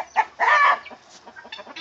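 A hen kept in a brooder gives a few short clucks and a louder drawn-out squawk, close and fairly quiet, followed by softer scattered murmurs.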